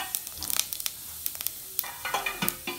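Cumin seeds dropped into a tablespoon of hot oil for tomato chutney give a light crackling sizzle, with scattered sharp pops and ticks that come in bunches and then thin out.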